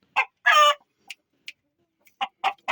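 A broody hen gives a string of short, sharp clucks, close and loud, spaced by brief silences with a quick double burst near the start and a tighter run at the end.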